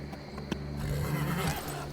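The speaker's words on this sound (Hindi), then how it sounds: "बोलते बोलते ड्रैकुला ने अपना घोड़ा रोक दिया और झट से नीचे" A horse neighs and its hooves clop as a rider pulls it to a halt, with a sharp hoof strike early and a steady, fairly close whinny following over a low rumble.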